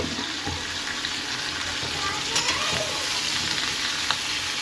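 Cauliflower and potato stir-fry in hot oil with onion, a loud, steady sizzle with faint scraping of stirring running through the whole stretch.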